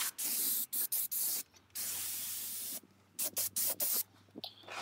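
Bursts of spraying hiss as white reflective roof coating is sprayed onto a roof, close and steady, broken by short gaps and stop-start strokes.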